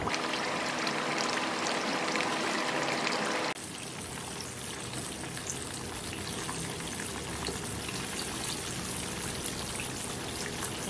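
Seelavathi fish pieces frying in a pan, giving off a steady, loud hiss and crackle of hot oil that runs throughout, slightly louder in the first few seconds and with no voices.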